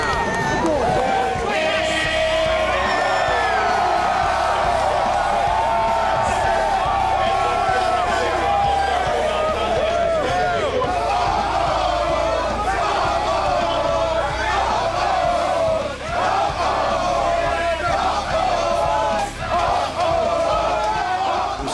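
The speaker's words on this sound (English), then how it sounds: "the largest crowd in A&M history celebrated into the night as the Aggies upset UT" Texas A&M's largest-ever basketball crowd roars in celebration after the Aggies' 74-63 upset of UT: sustained loud cheering, shouting and crowd babble in an arena, with voices throughout.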